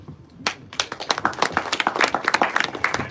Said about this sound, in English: Kindly give him a round of applause once again